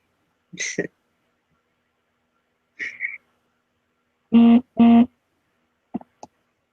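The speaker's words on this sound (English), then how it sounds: "that was my phone" A mobile phone goes off during a podcast discussion, sounding a few short spaced electronic tones, including two stronger beeps in a row and small blips after, near and clear without talk.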